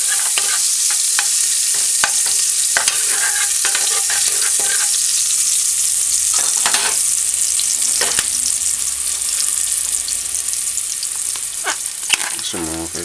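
Loud, steady sizzle of onions and beef sauteing in a hot pot for a pot roast, with occasional stirring clicks and scrapes close by and no talking.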